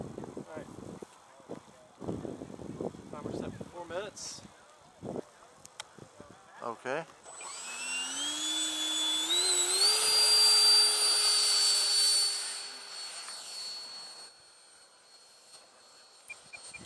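A radio-controlled Flexjet F-16 model jet on its maiden flight. After people talk, a high-pitched turbine whine rises and swells loudly, holds for several seconds, then fades.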